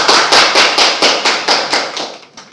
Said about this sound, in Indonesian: kita berikan aplaus dulu untuk Septian